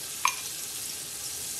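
Chopped ginger, garlic and green chilli hit hot ghee with a sharp little clink, then a steady, quiet sizzle hisses on alone for the rest of the moment.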